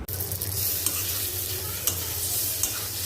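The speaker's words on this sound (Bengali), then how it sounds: "আজকে পোয়া মাছটা কীভাবে রান্না করতেছি ওইটা আপনাদেরকে শেয়ার করব" Poa fish sizzles loudly in hot oil in a pan while it is stirred, giving a steady dense hiss with occasional scraping clinks and no speech.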